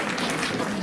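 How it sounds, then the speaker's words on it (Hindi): A public gathering in Gorakhpur breaks into loud, dense applause in its honoring of a guest, a continuous wash of clapping heard alone for under a second. "जोरदार तालियां बजा दीजिए ताई जी के सम्मान में"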